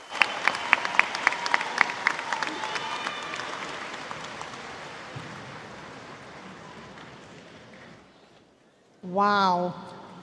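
Applause fills a university commencement ceremony hall, loud at first with a few sharp claps standing out, then thinning into a long fading patter. A brief voice rings out near the end.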